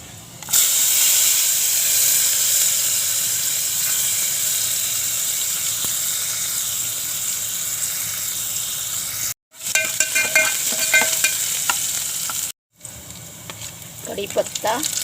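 Onion hits hot oil already cooking with mustard seeds, cumin and garlic, a loud continuous hiss and sizzle that holds steady, broken by two brief gaps and followed by scraping stirring sounds.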